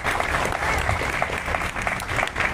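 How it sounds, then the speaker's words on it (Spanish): Audience at a mayors' visit and press conference in Xochimilco applauding, a full, continuous roar of many hands clapping together, loud and sustained with faint crowd murmur beneath. "para mi compañero alcalde, un fuerte aplauso, un agradecimiento"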